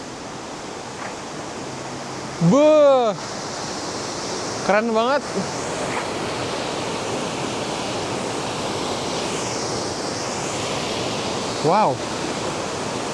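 Waterfall in the mountains of southern Poland in light drizzle, a steady broad rushing roar of falling water filling the scene, with a person briefly exclaiming over it and a few short whistling chirps cutting through.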